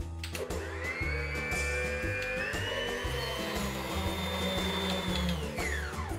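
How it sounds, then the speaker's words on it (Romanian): An electric stand mixer whirs steadily as it beats egg whites in its bowl, a continuous high motor whine with rhythmic churning underneath, heard close and alone. "am pus albușurile în bolul acestui mixer și le voi bate foarte, foarte bine până când nu mai cad din bol"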